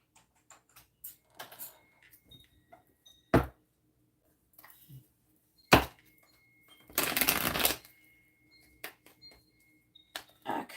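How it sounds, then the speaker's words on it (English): Tarot cards are shuffled in a quiet room: scattered taps and slaps, two sharp knocks, and a dense rustling shuffle lasting about a second near the end. "Come on, shuffle."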